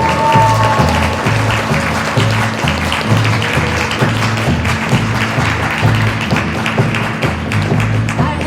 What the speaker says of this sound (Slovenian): en aplavz za Florence!